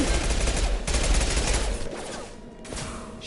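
Gunfire in Mass Effect 2 Legendary Edition crackles in a dense rapid burst, loud and close, then thins out into a quieter stretch with a brief final flare.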